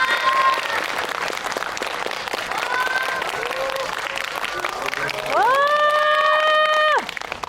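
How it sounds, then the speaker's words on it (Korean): An audience claps at a film screening and Q&A event, a steady wash of applause with cheering. Whistles or voice-like tones rise above it, with one strong, long tone near the end. "큰 박수 부탁드립니다."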